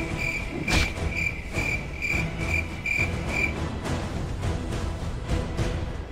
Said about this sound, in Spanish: A los grillos, ahí te los mando, Arturo.